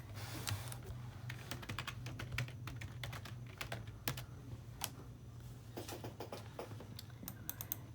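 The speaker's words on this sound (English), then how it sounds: "if I were to type in this person's name" A name is keyed into an office computer system on a keyboard. The clicks are close and fairly light, coming in short uneven bursts with small pauses between them, over a faint steady background hum.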